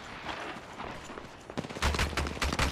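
Gunfire in the mobile battle royale Apex Legends Mobile, starting as faint distant shots and then turning into loud, rapid bursts of automatic fire in the second half.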